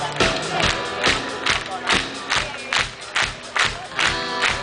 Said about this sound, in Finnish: Voisi kokeilla tämmösen rytmikästä taputusta